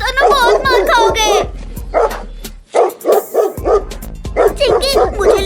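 Two cartoon dogs bark in a rapid series of loud, close woofs and yips, pausing briefly and resuming, with animated character voices talking over and between the barks.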